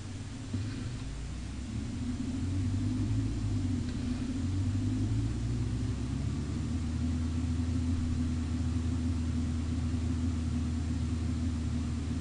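Car engine in the Trials Evolution game rumbling off-road, a low steady drone with slight pitch wavers, continuous and close, with no talk.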